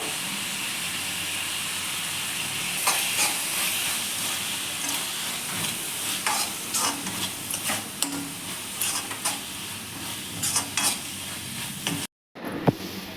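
Tomatoes fry in oil in a pan for a fenugreek leaf gravy, with a steady hissing sizzle and a run of spatula scrapes and stirring clatter, cut briefly near the end.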